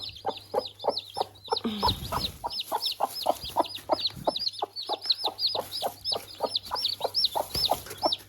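A broody hen clucks over her newly hatched chicks in a closed coop during frost, giving a long, steady run of quick, regular clucks close by, with a few low bumps and rustles beneath.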